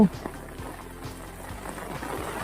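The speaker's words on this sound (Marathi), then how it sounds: "मोठा पाऊस आलेला हा मोठी सर आलेली" A heavy rain shower pours down in a steady, dense hiss of drops, constant and fairly loud throughout, with a voice speaking faintly beneath it.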